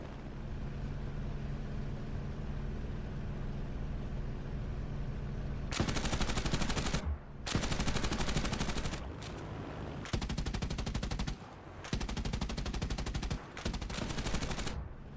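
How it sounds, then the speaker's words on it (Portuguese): Bursts of 20 mm aircraft cannon fire in an air combat attack, several loud sustained rattling volleys separated by short gaps after a steady low engine-like drone. "disparou uma rajada de seus canhões de 20 milímetros no avião do Capitão Cesenha, que se ejetou"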